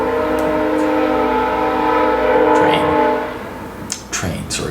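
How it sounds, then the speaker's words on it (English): A train rolls past close by, its horn sounding loud and sustained before the rumble fades and a few sharp clicks follow. "Train, sorry."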